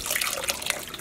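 A healthy splash of white vinegar pours into a dye pot of black acid dye holding sock yarn, giving a brief, close, bubbling gush of liquid with no voices.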